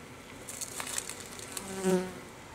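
Honeybees buzz at a hive entrance, a soft, close drone of several insects with one louder buzz swelling briefly as a bee passes near. No one speaks.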